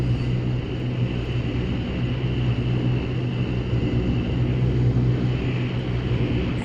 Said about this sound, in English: Wow, the plane is drifting.